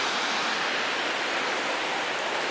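Harajiri Falls, a waterfall, roars as a steady, dense broadband rush of falling water, continuous and loud throughout with no voices or other sounds.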